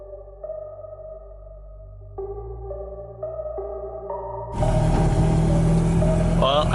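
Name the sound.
Mazda RX-8 project car driving, loud engine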